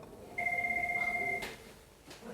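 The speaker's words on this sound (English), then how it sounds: "That's the phone. That's Saved by the Bell." A telephone rings once in a broadcast studio: a single clear electronic trill lasting about a second, moderately loud against quiet room tone, followed by brief faint rustles.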